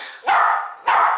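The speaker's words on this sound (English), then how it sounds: "no, refrain from any barking, okay?" A dog gives two loud, close barks about half a second apart, each with a brief tail, and there is no other sound around them.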